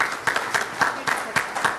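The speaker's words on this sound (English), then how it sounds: "so a round of applause for you" A conference audience claps in response to a speaker on stage, a short burst of applause with distinct individual claps standing out, fairly close and loud, with no talk over it.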